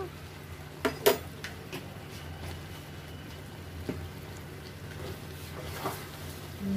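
Spices—mustard, fenugreek and coriander powder—being stirred into elephant apple pickle in a pot, with a few sharp scraping clinks of a spoon against metal over a low, steady background hum.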